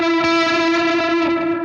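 An electric guitar plays an ambient post-rock lead tone with reduced gain, reverb and delay, one sustained note ringing loud and rich with soft repeated picks blooming through a long smooth tail.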